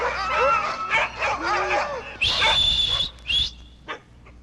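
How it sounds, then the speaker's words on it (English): Alaskan sled dogs bark, yip and whimper together in an excited chorus, eager to be harnessed, and a high whistle cuts through near the end as the barking thins. "his dogs were barking for permission to be harnessed, and Norris called for silence"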